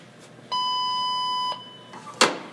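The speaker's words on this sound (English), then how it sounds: "we want to push this over so that it touches the inside of that bead there, and it'll beep when it's ready" A tire balancing machine gives a single steady electronic beep lasting about a second when ready, followed by a sharp click from the shop floor.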